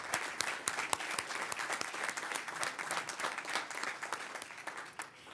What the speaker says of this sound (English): a round of applause for Serene El Nashar